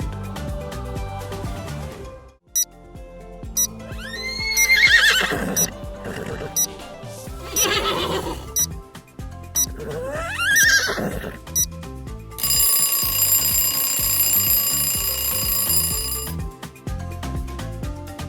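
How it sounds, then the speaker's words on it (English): A horse whinnies loudly twice, shrill sweeping neighs among other background sounds, with a steady ringing tone near the end. "It's a horse."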